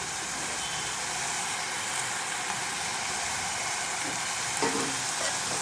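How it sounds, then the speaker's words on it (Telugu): Ginger garlic paste, onions and green chillies fry in oil for an egg curry, an even, dense sizzle held steady throughout with a faint stir near the end. "చక్కగా అల్లం వెల్లుల్లి పేస్ట్ ఉల్లిపాయలు పచ్చిమిర్చి చక్కగా ఆయిల్లో ఫ్రై అవుతున్నాయి"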